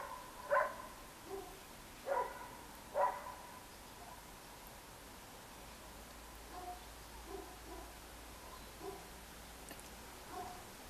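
A dog barks several times in the distance, a few sharp yaps spaced irregularly, then fainter barks later over a quiet background.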